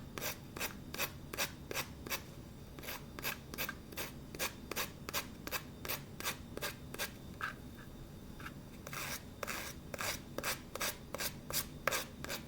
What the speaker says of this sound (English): I'm just going to sand off these edges here.